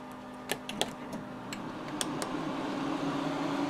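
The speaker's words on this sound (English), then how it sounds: "turn on the ice machines" Ice machines switching on at a party: a few light mechanical ticks and clicks, then a steady whirring hum that grows slightly louder and continues to the end.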